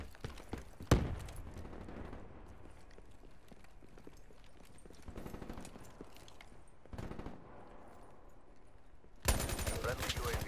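Rapid gunfire from Black Ops 3 multiplayer, bursts of automatic shots rattling under background game noise, with a loud sharp report near the start and another heavy burst at the end.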